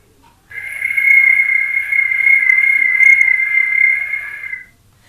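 A voice mimics a cricket chirping on a rainy-season night, producing one long continuous shrill whistling tone held for about four seconds, fairly loud and alone against faint background hum.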